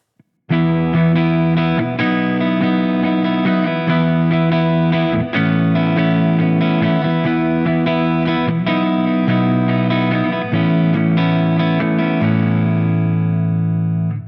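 An Eastman SB59/v electric guitar with a clean tone, neck pickup position, plays a sequence of ringing, sustained chords, changing every second or two before the last one fades out.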